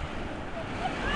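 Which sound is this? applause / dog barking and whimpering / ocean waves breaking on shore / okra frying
ocean waves breaking on shore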